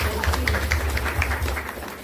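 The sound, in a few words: applause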